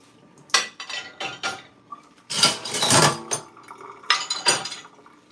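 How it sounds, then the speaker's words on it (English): Rinsed dishes being stacked into a home dishwashing machine produce bursts of ceramic clatter and metallic clinks, several sharp knocks and rattles in quick succession, close and fairly loud with no talking. "So I rinse them here and put them here, organize them down there in the machine."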